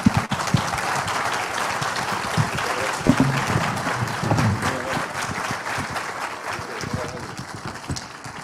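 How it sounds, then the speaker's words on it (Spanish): Strong applause from a mining conference audience for a discussion panel, dense continuous clapping with a few sharper claps standing out, filling the room with a voice faintly mixed in. "les pido un fuerte aplauso para ellos"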